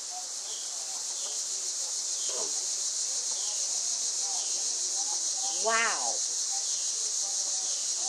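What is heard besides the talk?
crickets chirping during solar eclipse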